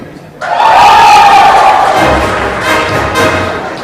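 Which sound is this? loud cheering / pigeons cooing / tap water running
loud cheering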